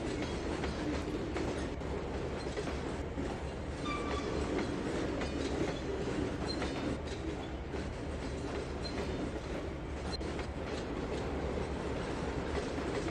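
Tidewater diesel locomotives haul a log train in the Trainz 2022 simulator, with a continuous low engine rumble and rhythmic wheel clatter over rail joints, steady and fairly close, with faint squeals but no voices.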